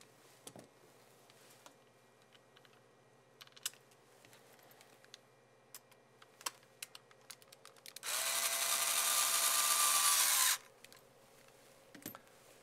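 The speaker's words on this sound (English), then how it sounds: "Place the first screw into one of the holes and tighten it with the electric screwdriver." An electric screwdriver whirs loudly for about two seconds, driving a screw into a camera mount base plate, with small clicks and handling taps around it.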